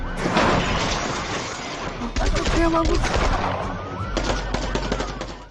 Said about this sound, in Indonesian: gak lama terlihat aksi kejar-kejaran dan baku tembak antara polisi dan para perampok